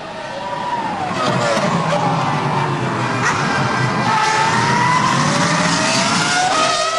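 McLaren Formula 1 car racing at the 2003 European Grand Prix, its engine a loud, continuous high-pitched whine that climbs and falls with gear changes over a steady bed of broadcast and crowd noise.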